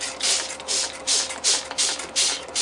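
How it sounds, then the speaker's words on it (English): Several quick hissing bursts from a spray bottle spraying water, close and fairly loud, repeating in an uneven rhythm with brief pauses between them. "I'm supposed to spray things with water before starting the proofing."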